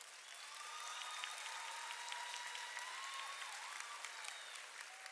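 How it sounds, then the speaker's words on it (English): Graduation audience at Eisenhower High School's 2014 ceremony applauding parents, a dense, steady wash of clapping from a large crowd sustained for several seconds with a few faint whistles rising above it. "Give your parents a round of applause."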